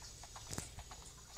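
Hooves of a horse in a Minecraft-like video game clip-clop in a quick, uneven series of light taps over a soft game background, with one sharper hit near the middle.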